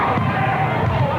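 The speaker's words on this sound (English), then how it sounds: "The crowd didn't like that." A high school basketball crowd in a gym groans and murmurs in disapproval at a foul call, a dense, loud wash of many voices.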